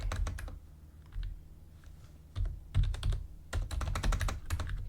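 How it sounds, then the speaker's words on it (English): Bursts of keyboard typing, clustered keystrokes with short pauses between runs, close by over a low background hum. "I think I'm typing wrong"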